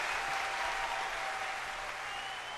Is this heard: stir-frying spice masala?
no